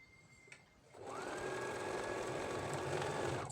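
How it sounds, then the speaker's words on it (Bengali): A sewing machine starts after a brief click and runs steadily at speed, stitching fabric strips around a square of cloth for a patchwork pillow cover, a close, continuous whirring hum with no talk. "সেই কাপড়টার চারদিক থেকে আমি এই স্ট্রিপগুলো সেলাই করে নেব।"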